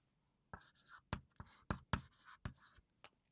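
A hand writes a math formula with scratchy strokes in short bursts and brief pauses, close to the mic with no talking.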